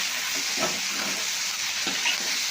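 Spiced paste with turmeric powder fries in a pan, giving a steady, close sizzling hiss with occasional soft stirring scrapes.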